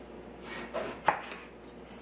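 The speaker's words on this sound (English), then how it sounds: "So before I grill this big eggplant, obviously it is too big, so I wanted to just slice it" A knife slices through a big eggplant on a cutting board, a few soft separate cuts and one sharper knock against the board.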